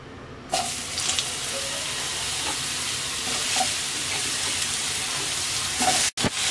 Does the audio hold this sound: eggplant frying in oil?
yes